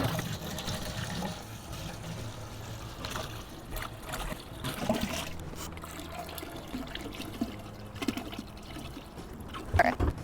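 Seven gallons of water pouring into a brewing kettle for a New England IPA brew day, a steady close splashing fill running the whole time with a few louder clanks near the end.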